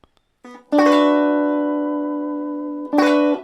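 Two strummed guitar chords, an E ninth voicing: the first rings out and sustains for about two seconds before a second strum restarts it.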